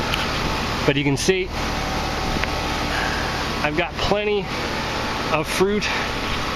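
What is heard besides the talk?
air conditioner running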